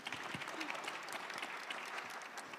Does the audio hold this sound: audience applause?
yes